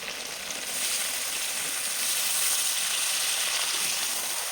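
Water hits a hot pan of frying chicken and potatoes, setting off a loud, steady hissing sizzle that builds slightly and holds throughout, close and without talk.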